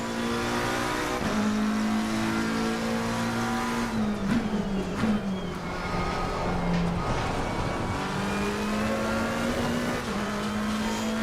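A McLaren race car in the Assetto Corsa racing game howls at high revs, loud and continuous, its engine pitch rising and dipping through gear changes with brief tire noise, no voices.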